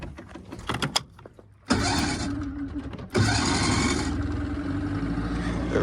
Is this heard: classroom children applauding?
no